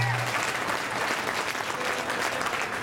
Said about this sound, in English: Let's give Steph a big round of applause.